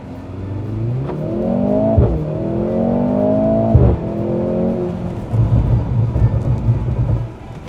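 A W206 Mercedes-AMG C43 on Continental MC7 tyres at Sepang circuit, its engine loud and close, rising in pitch through repeated accelerations and gear changes, then settling into a rougher, steadier drone.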